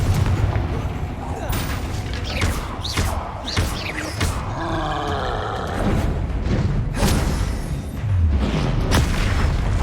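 Booming spell blasts and heavy thuds ring out amid continuous combat noise in a Hogwarts wizarding video game, with loud explosive impacts recurring throughout while someone talks over the action.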